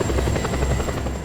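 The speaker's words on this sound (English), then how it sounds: "I'm going to lose this helicopter if I'm not careful." A helicopter in the video game Just Cause 2 drones steadily with a rapid rotor pulse, loud and close, with no voices over it.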